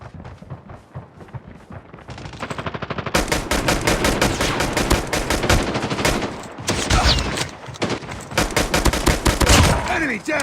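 Rapid bursts of automatic gunfire fill a Call of Duty Mobile firefight, loud and dense with barely a pause, strings of shots rattling over and under one another, with a short lull and brief game callouts faintly mixed in.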